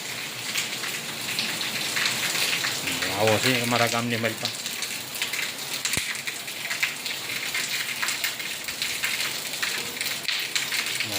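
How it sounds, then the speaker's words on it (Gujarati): Heavy rain pours down in a dense, constant hiss, and a voice speaks briefly over it. "આવો વરસાદ પડે છે"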